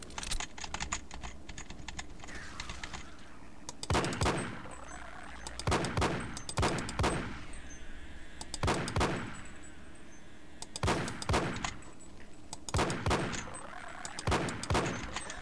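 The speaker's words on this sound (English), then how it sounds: "I do kind of like the weapon sounds in this. They sound a lot punchier than stock HL1." Weapons fire in the shooter game Half-Life: Echoes, sharp punchy shots in repeated bursts over a constant clicking background, fairly close and loud.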